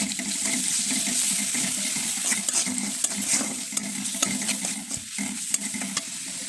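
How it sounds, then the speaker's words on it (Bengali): Steady frying sizzle of small shrimp in spices, with repeated scraping and stirring clatter from a utensil in a pan, fairly close, with no talking. "চিংড়ি মাছটা আমি এই মশলার সাথে একটু কষিয়ে নেবো ভাজা ভাজা করে নেবো"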